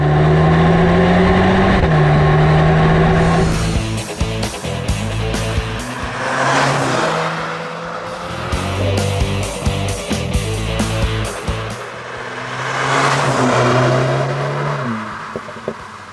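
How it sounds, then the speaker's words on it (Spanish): A Renault Megane RS Ultime with an Akrapovic exhaust, close and loud: the engine drones, then revs hard in repeated surges through several gear changes, with crackles between pulls. "el sonido siempre acompaña gracias a los Akrapovic."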